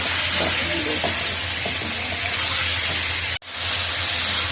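Loud, steady sizzling of chicken frying in a hot pan for a green chicken karahi, with faint stirring clinks, cut briefly near the end before the sizzle resumes.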